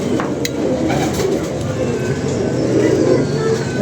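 A pigeon coos softly against a steady wash of background noise, with the calls blending into the constant low rumble rather than standing out sharply.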